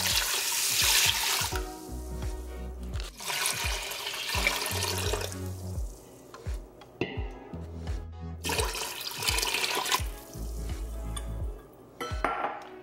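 Water pours and splashes into a pot of rice in several loud, close bursts, with gurgling and swishing between pours.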